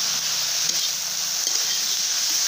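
Ghee sizzles in a pan while a Bengali chutney cooks in a village kitchen: a loud, continuous, close frying hiss, even and unbroken throughout.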